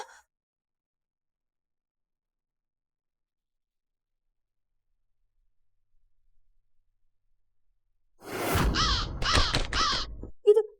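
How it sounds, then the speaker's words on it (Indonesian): A crow caws a few times in quick, harsh succession, loud and close, after a long near-silence, during an Indonesian lenong comedy sketch. "Itu burung gagak ya"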